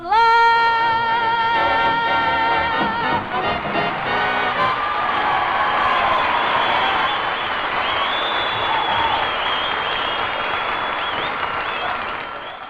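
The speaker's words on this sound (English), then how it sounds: "Rapturous applause" Rapturous applause from an audience at a swing music show, breaking out as a song's final sung notes fade and continuing as dense, steady clapping for over ten seconds.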